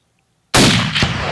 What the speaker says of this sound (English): To be on the safe side, Larno instructs Anke to put in an insurance shot.